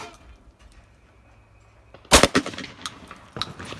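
A single loud, close gunshot from a shooter testing Flare Audio ear protection cracks out alone after a quiet stretch, followed by a few fading echoes and smaller knocks.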